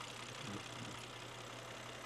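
A twin-turbo car engine idles steadily while running on milk, giving a low continuous hum with a faint mechanical rattle, moderately loud and unbroken, with no talking over it.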